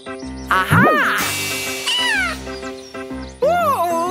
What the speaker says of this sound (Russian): А откуда доносится этот звук? Мяу!